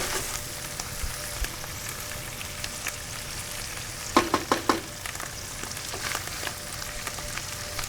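Tomato sauce sizzles in hot oil with onions, a low steady frying crackle punctuated midway by a quick cluster of sharp metallic spoon scrapes against the pan, no talking.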